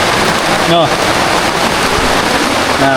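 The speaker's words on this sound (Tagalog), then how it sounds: "Sugsug na kayong ulan." Heavy rain pouring down on crops in a dense, unbroken hiss, with a voice breaking in briefly.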